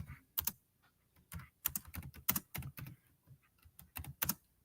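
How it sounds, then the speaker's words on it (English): Bursts of rapid typing on a computer keyboard, clattering key presses in short irregular runs separated by brief pauses, close and clear. "if you type in women at the beach"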